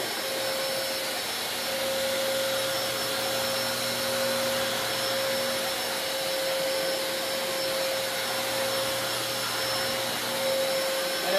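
Wet vac running continuously while cleaning indoor floors, a loud steady motor whine and airflow roar holding constant throughout with no talking.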